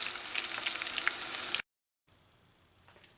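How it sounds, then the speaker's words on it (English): Dal mixture for Trinidad ladoo, a Diwali sweet, fries in hot oil with a dense crackling sizzle up close. It cuts off suddenly, and a fainter bubbling returns after a short silence. "You just fry it until it's light golden brown in color."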